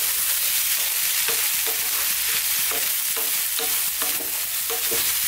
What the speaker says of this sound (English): still on this high heat, just like 2 minutes, let's throw them around, get some of that garlic and onion flavours onto them.